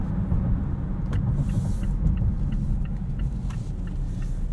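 Four-cylinder engine of a 2022 Mazda CX-9 Signature running steadily with a low, even rumble, heard close and alone.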